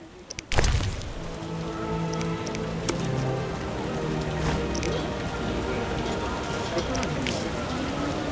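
Rain falls in The Witcher video game as a steady, even patter throughout, with a louder splashy burst near the start, while voices talk over it.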